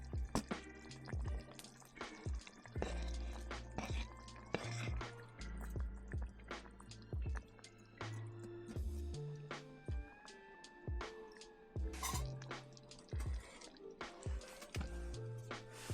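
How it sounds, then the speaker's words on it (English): Curry simmering in a covered pot inside a hot tent during winter camping at minus fifteen degrees, soft bubbling drips and wet squishy pops in an irregular patter, quiet and close, with no talk. "So I'm just trying to lower the heat, cover it up, and let it simmer for 15 minutes."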